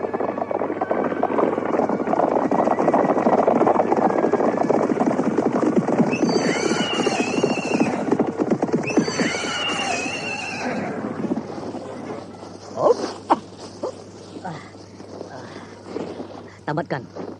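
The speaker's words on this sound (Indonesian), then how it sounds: "Tambatkan kuda-kuda kalian di sana." Horses whinny and neigh twice in the middle, loud and close, over a busy crowd and clattering movement as the animals arrive, with speech and scattered knocks toward the end.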